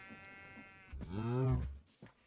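Sheep in Minecraft give one clear, wavering bleat in the foreground after a brief quiet stretch, with a faint tone fading out before it.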